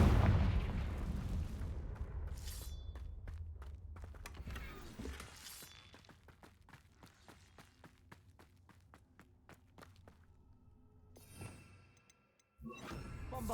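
Confringo blasting spell cast in Hogwarts Legacy, a booming burst at the start that fades into a string of sharp crackling impacts and mechanical clicks, with another loud blast near the end.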